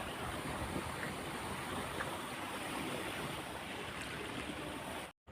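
Irrigation water from a pipeline rushes steadily into a field furrow nearby, a continuous, even flowing sound with no voices.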